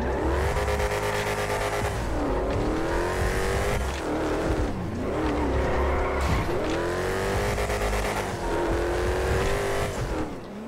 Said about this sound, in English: Let me turn up the volume really quick and just listen to the engine.